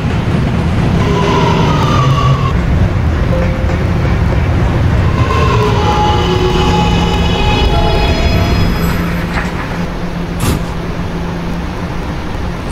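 R211A subway train from a Roblox game, a loud continuous rumble of the train running with rhythmic rail clatter and rising and falling whining motor tones throughout.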